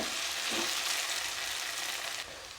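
Potato, carrot and egg fry in a pan with a steady, dense sizzle that holds evenly throughout, close and moderately loud, dropping slightly at the end.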